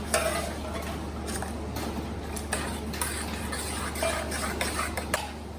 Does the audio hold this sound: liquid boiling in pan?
yes